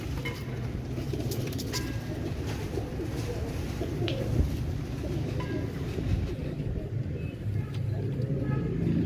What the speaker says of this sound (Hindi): ये कुरीज में है कबूतर सारे के सारे।